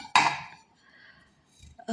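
Porcelain plates being handled, one clear clinking knock of china at the start that rings briefly, followed by a quieter scrape and another touch at the end, close and alone.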